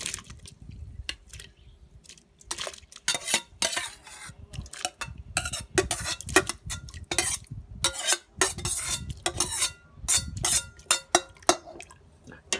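Ingredients for an Isan-style beef stew go into a cooking pot, giving irregular close clatters, scrapes and wet squishing thuds with short gaps between them and no talking.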